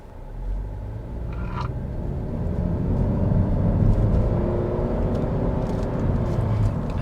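A 2022 Honda Civic Touring with a 1.5-liter four-cylinder engine and CVT accelerates hard, its engine droning in a steady rising hum with road rumble heard from inside the cabin.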